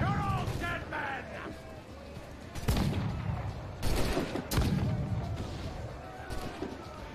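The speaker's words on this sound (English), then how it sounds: "Grab the swivel. Shoot the powder reserve." Swivel gun aboard a ship in Assassin's Creed IV Black Flag, several heavy booming shots spaced a second or so apart, loud and close, over a rumbling battle backdrop with voices shouting between them.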